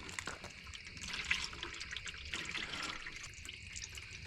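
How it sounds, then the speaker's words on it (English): Fuel-thinned oil from an old junk engine pours out in a steady liquid stream, a close gurgling splash with no talk over it. "Just pure gasoline coming out."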